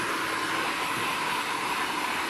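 A hair dryer on low heat blows a steady, close, even whoosh of air while drying hair, running alone without voices.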